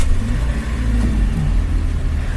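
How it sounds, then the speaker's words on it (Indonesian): A 1500cc car engine, similar to a Toyota Avanza Veloz, idles with a steady, loud low rumble heard from inside the car, without a break. "Persis kayak suara mesinnya Avanza, karena emang sama seperti Avanza Veloz 1500cc."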